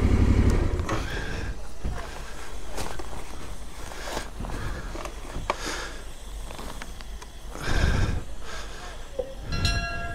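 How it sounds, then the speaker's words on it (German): A steam locomotive passes near the end of the world in Ushuaia: rumbling rail noise with rhythmic clanks and bursts, loud swells at intervals and a short whistle-like tone near the end. "das ist eine Dampflok"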